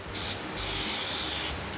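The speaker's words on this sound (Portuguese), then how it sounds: "Eu vou colar ela usando essa cola aqui, que é a famosa cola de sapateira, né? Só que em spray." Contact cement, the shoemaker's type, sprayed from an aerosol can onto both faces of a part, giving two hissing bursts: a short one, then a longer steady spray of about a second, close and fairly loud.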